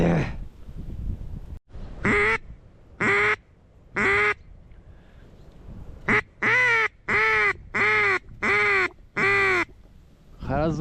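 A series of about nine loud, evenly spaced duck quacks rings out on a snowy, windy, freezing morning duck hunt. The quacks come in short bursts, the later ones in rapid succession.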